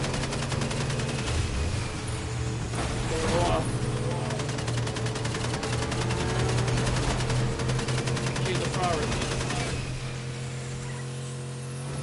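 Rapid automatic gunfire in a shooter video game rattles almost without pause, a dense rolling stream of shots beneath game noise, while a voice talks over it.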